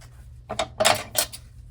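Scissors snip paper or card for a craft project in three short, close cuts with crisp rustling, over a low steady hum, with no talking.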